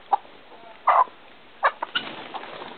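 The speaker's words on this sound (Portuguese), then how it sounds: "Peguei umas 4 galinhas lá." Chickens being caught on a farm in Minas Gerais give a few short, scattered clucks and squawks close by, over a faint background hiss.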